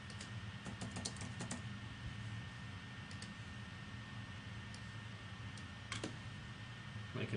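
Keys clatter on a computer keyboard as text is typed in a design program, in quick irregular bursts with pauses, faint and close against a steady background hiss; no one speaks.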